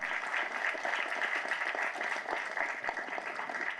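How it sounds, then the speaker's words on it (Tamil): Steady applause from an audience at a Tamil film's music launch event, a dense patter of many hands clapping heard from some distance, fairly quiet and continuous. "இந்த படம் நல்லா ஓடணும்னு கைத்தட்டுங்க எல்லாரும்"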